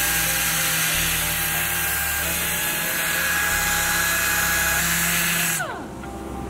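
A power sander runs around the perimeter of an epoxy table, a steady high-pitched whine with grinding texture that winds down near the end as the tool stops.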